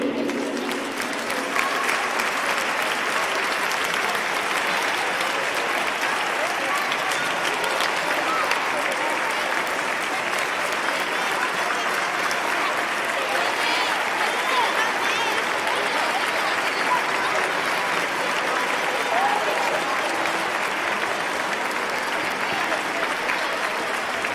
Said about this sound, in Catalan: demanem que sortiu aquí i rebeu un merescut aplaudiment